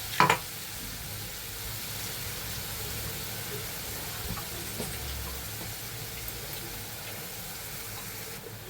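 Oil in a pan on a lowered flame, frying and being stirred, gives a steady close hiss with a sharp clatter at the start and occasional faint stirring ticks.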